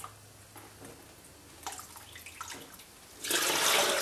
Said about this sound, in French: Donc je vais faire le complément avec un petit peu d'eau